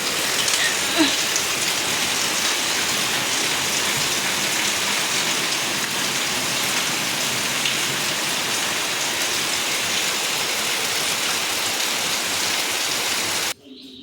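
Steady rain falls over a village, a dense, even hiss of drops on surfaces that continues unbroken and close, ending with a sudden drop in level.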